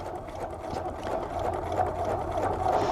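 A sewing machine stitches fabric pieces together for a fan-variations quilt block, a steady mid-pitched motor whir with rapid needle chatter building slightly in loudness, close and continuous without talk.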